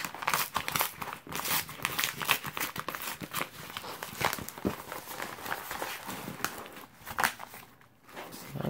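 Plastic wrapping around a package of Bionicle parts crinkles and crackles as the seal is broken open, a busy close run of sharp rustles and tearing snaps with no talk.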